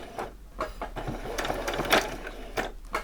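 A sewing machine stitches doll-sized denim jeans in short close bursts, a small run forward and then a back stitch, with brief pauses between the runs.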